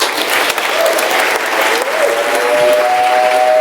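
Audience applause welcoming NASA astronaut Rick Mastracchio at a morning meeting, steady, dense clapping from a roomful of people that holds evenly throughout.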